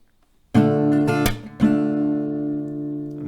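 A minor chord strummed on an acoustic guitar in a short down-down-up pattern, with a brief dampened break partway through before the chord rings out loud and close, with no talking.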